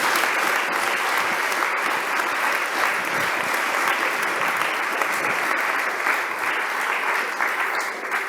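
Steady, dense applause from a lecture audience at a young researchers' symposium, sustained at an even level throughout with no pause or voices on top.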